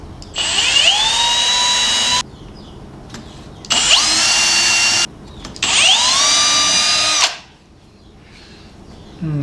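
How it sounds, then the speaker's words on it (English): A power drill bores pilot holes into a wooden trellis in three separate bursts, each a loud rising whine that spins up, holds and then cuts off, with short quiet pauses between. "I can pre-drill the rest of my centers"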